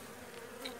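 Stressed honey bees from a weak colony buzz faintly at an open hive, a brief low steady drone.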